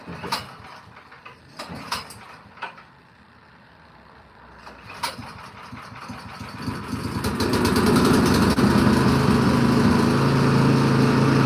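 A small engine, freshly repaired at the carburetor, sputters with scattered clanks and clicks, then catches and runs steadily and loudly, its close continuous drone filling the last few seconds.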